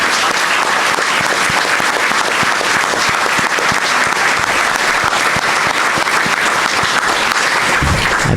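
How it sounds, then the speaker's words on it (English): Loud, sustained applause from a large crowd at a school board of education meeting, dense steady clapping filling the whole stretch without a break. "let's give them a round of applause before we bring them all up"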